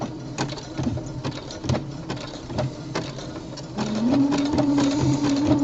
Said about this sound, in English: make sure you go slow and steady with the top stitching.